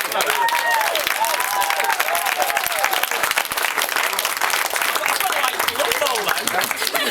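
Wedding guests applaud after a toast to the bride and groom, a steady, dense round of clapping from a full room that carries on unbroken, with voices and cheers mixed in.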